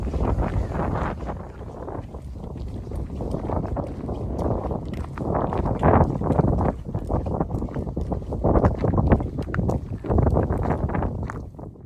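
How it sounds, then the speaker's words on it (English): Steady gusty wind buffeting the microphone on a mountain hike up Mount Tamalpais, rumbling and rising in uneven surges throughout without any talking. "There's something so energizing about the wind."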